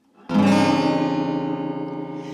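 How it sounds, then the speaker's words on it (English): An out-of-tune acoustic guitar chord is strummed once and rings out, sustaining and slowly fading, with a sour, clashing tone. "if your guitar isn't in tune, it'll sound something like this."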